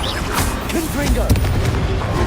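Confringo spell blasts in Hogwarts Legacy, heard as loud, constant booming detonations and gunfire-like crackle with no break, while a voice speaks over the top.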